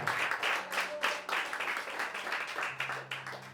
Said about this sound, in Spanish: Si quiere aplaudir, aplauda al Dios que vive y al que reina.